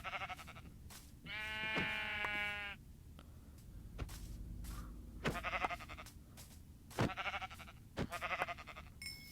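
Sheep in Minecraft bleat several times, one long wavering cry followed by shorter repeated calls, heard over faint footsteps and ambient game noise.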